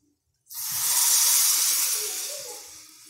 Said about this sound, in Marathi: हा मसाला छान भाजला की परत हे पाणी त्याच्यामध्ये ओतून घ्यायचं